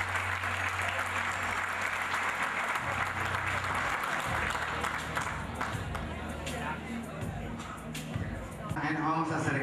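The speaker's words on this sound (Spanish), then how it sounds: "El fuerte aplauso" Loud, sustained applause fills a hall at a 70th-anniversary celebration as a former club president is called up. Crowd murmur runs under the dense clapping throughout.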